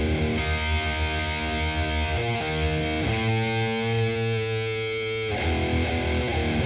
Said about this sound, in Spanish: le subimos toda la distorsión lo más que dé a amplificador y empezamos con la primera parte.